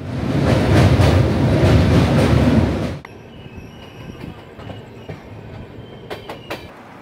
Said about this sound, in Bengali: ট্রেন ছাড়লো পাটনা থেকে।